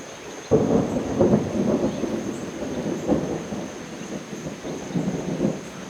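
Thunder rolls through a thunderstorm in southeastern Pennsylvania, a fairly close crack opening into a long rumbling roll that stays loud for several seconds, with a faint steady hiss behind it.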